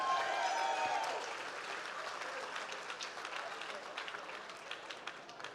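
An audience at an awards night applauds as the judges come up, dense crowd clapping that starts loud, softens slightly and carries on steadily with scattered sharper claps.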